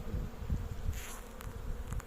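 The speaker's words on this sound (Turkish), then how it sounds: "Arı zaten arı, kendi işini biliyor." Honeybees hum around an opened hive during an inspection in Istanbul, a continuous close buzz that swells and dips as individual bees pass near.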